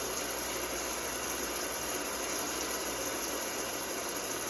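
Rain setting on a six-sound white noise machine gives a constant, dense broadband hiss like steady rainfall, unchanging in level throughout with no voices.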